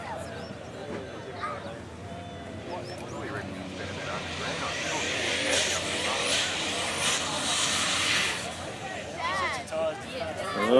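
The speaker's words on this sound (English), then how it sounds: "I think this might have a turbo in it, this Holden." Twin-turbo Holden VN car performing a powerskid at a burnout event, a roaring engine swelling to a loud, sustained screech with crowd babble and a commentator talking over it.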